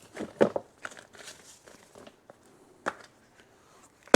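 Empty plastic bags from a container are crumpled, crinkling and rustling in bursts, with a few sharp crackles and pauses between handling, close by.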